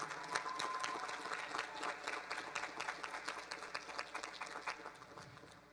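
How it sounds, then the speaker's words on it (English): An audience at an entrepreneurship awards ceremony applauds steadily, many hands clapping together in a dense, sustained patter that slowly tapers off. "ladies and gentlemen, a round of applause"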